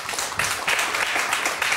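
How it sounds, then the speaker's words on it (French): Applause from a television studio audience on a French talk show, a short burst of dense clapping at moderate loudness. "Vous qui applaudissez"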